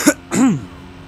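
A single throat-clearing cough, loud and close: a short sharp burst followed by a longer rasping, voiced hack.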